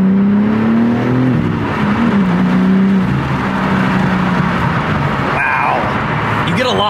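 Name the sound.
BMW M4 with M Performance exhaust accelerating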